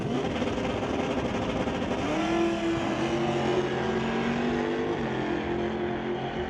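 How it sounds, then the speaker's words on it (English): Two drag cars launching side by side on a drag strip, a 1999 Camaro against a 1976 Dodge with 455 Mopar power, engines roaring loud and continuous with rising revs throughout. "Nice pair of liftoffs for those two cars here in electronics class"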